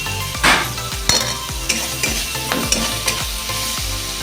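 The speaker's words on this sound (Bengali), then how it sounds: "গ্যাসের আঁচ কম করে এগুলো একটু ভাজা ভাজা হয়ে গেলেই দিয়ে দেব" Sesame seeds and chopped onion fry over a low gas flame in a pan, giving a steady close sizzle broken by regular scraping stirs about every half second.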